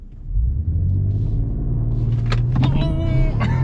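A 2021 Mercedes-Benz E450 launches from a standstill, its engine rising into a loud, steady rumble of hard acceleration heard from inside the cabin, with brief vocal noises near the end.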